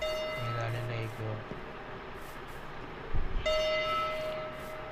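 Ringing bell sounds in the Pixelmon Minecraft mod, two bursts of tolling tones at the start and again later, moderately loud over a low game background.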